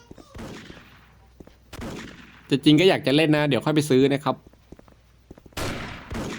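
Short bursts of machine gun fire in the mobile shooter Special Force M crackle between stretches of someone talking, near and fairly loud.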